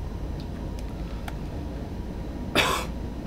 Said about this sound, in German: ich habe so einen trockenen Husten